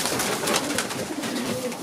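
Young racing pigeons in a loft coo and call softly and continuously, with steady loft rustling close by and no talk.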